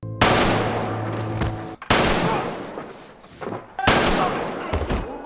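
Three loud gunshot blasts from Squid Game spaced a couple of seconds apart, each followed by a heavy thud of a body falling and a lingering rumble, with no talking.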